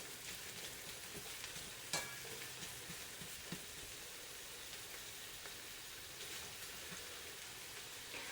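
Onions frying slowly in a pan, a steady low sizzle and crackle running throughout with a brief clink of a metal spatula near the start, no talking.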